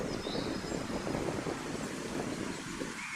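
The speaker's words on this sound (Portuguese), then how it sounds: "Dá para ouvir a conversa do vento." Wind blows through a beech forest, a wood planted nearly a century ago in the Serra da Estrela mountains, as a steady, even rush of soft broadband noise that holds without pause and with no voices.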